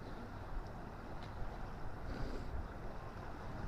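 Wind blowing outdoors around a motorhome, a steady low roar buffeting the microphone throughout, with no voices.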